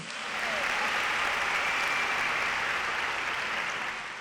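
Steady, dense applause from a church congregation during a sermon, rising quickly and holding at an even level for a few seconds, fading slightly at the end.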